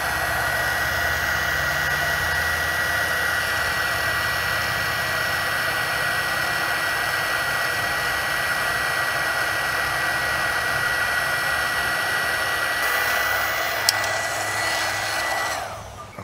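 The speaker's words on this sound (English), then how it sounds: "so we'll just take our heat gun" A heat gun blows hot air over heat shrink tubing on a soldered wire for an F-150 fuse relocation, a loud, steady close whoosh that holds for about fifteen seconds before it is switched off.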